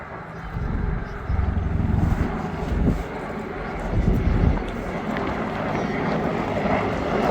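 Two AH-64E Apache helicopter gunships dive at a Duxford summer airshow, their engines and rotors a loud sustained roar that swells and eases, while a commentator talks over the PA.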